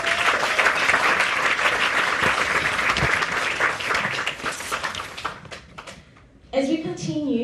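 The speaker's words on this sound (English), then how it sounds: "I think that deserves another round of applause." Loud, sustained audience applause at an app launch and art exhibition evening, dense clapping filling the room for about five seconds before thinning out, then a short burst of talk near the end.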